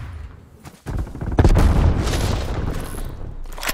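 Frag grenade blast in Call of Duty: Black Ops Cold War multiplayer, a sudden loud boom followed by a long rumbling, crackling tail of debris and gunfire lasting several seconds.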